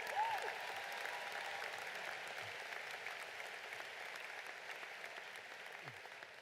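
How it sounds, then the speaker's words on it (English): Steady applause from a crowd at a high school graduation ceremony, a broad even wash of clapping sustained throughout without a break. "Could we give another round of applause to the class of 2025?"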